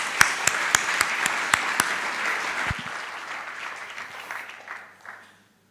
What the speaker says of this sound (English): I'd like to give them a clap.